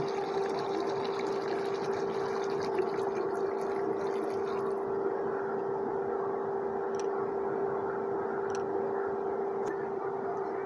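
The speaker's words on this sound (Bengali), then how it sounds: "এখন সামান্য একটু গরম পানি দিয়ে নেব।" Hot water being poured into a pot of chicken curry on the stove, giving a steady, close rush of liquid with a constant tone that runs without a break for about ten seconds.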